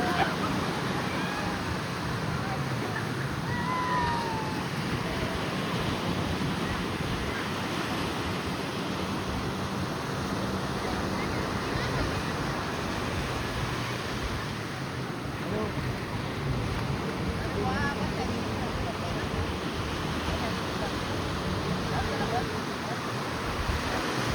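Ocean surf at Tarkarli beach rolls in as a steady, broad wash of breaking waves, mixed with gusty wind buffeting the microphone. It runs continuously and fairly loud throughout with no distinct pauses.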